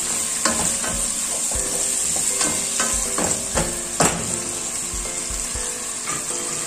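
Onions frying in a deep pan for a fish-head muri ghonto, crackling steadily with a bright hiss and repeated spatula taps and scrapes, close and alone.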